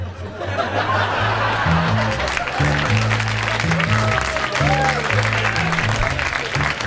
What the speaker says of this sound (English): I need that sporadic applause on the CD,